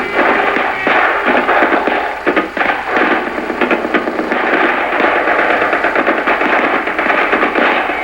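Rifle squad firing to support a platoon assault in a 1970s army training setting, dense rapid bursts of rifle and automatic gunfire, loud and continuous with crackling overlapping shots throughout.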